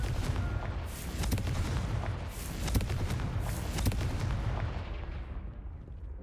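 The Confringo fire spell from a video game erupts in a loud, dense blast, a rumbling burst of explosive crackles with booming hits that gradually fades.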